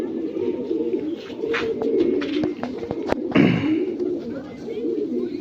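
Pure black-chested Lokhande pigeons coo up close, a soft murmuring chorus with a sharp knock in the middle, while someone speaks over the birds.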